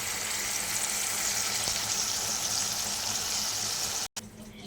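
A fish head curry simmers in a pan with a steady, close bubbling hiss that runs unbroken and then cuts out briefly near the end, with no talk over it.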